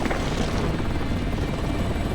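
A helicopter in a horror video game makes a steady, loud, close rotor roar and whine that fills the whole moment, with no talking over it.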